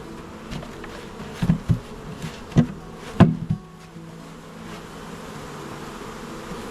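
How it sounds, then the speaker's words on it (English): Honey bees knocked out of a trap box swarm in a dense, continuous buzz, with several loud thumps from the box being banged, then the buzzing settles into a steady hum. "It's a lot more bees in there than I thought there were."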